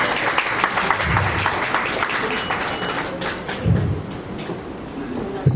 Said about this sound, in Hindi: तालियां बजाने में कोई कमी नहीं होनी चाहिए।